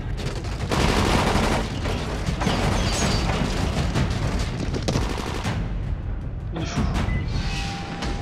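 Dense, continuous gunfire from soldiers in the Dying Light video game, with overlapping bursts of automatic fire and heavy booms sustained throughout at high volume, with no voices.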